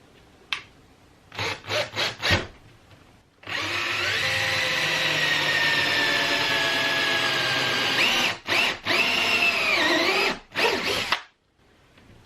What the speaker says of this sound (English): I'm almost forgetting to put a hole in the lid of the bucket here.